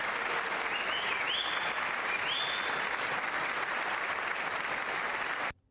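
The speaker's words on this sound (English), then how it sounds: "There's the Republican clap again," Republican lawmakers clap in the chamber during a State of the Union address. Steady, even applause stays at a constant level for several seconds, then cuts off abruptly.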